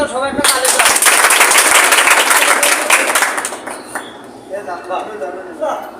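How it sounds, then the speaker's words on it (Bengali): A group of youth trainees at a poultry vaccination training session applauds loudly for several seconds, the clapping then thinning out to scattered claps as voices start up again. "সবাই একটা তালি দাও"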